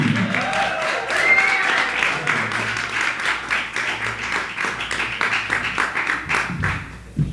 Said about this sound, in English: Ladies and gentlemen, big round of applause for Michael Tang.